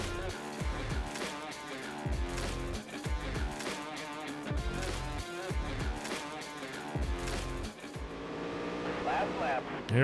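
A race car engine in a dirt track racing video game roars loud and close, surging and dropping in pitch repeatedly as the throttle cycles, with someone talking over it.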